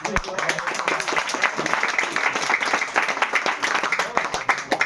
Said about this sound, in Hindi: ताली बज के ऐसा चाहिए।